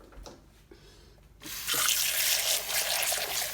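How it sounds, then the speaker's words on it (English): Water from a tap pours into a Breville Milk Cafe jug for rinsing. It starts abruptly after a quiet moment with small clinks, then keeps up as a steady, close splashing rush for the last two seconds. "what I usually have, I do here, is I just add water."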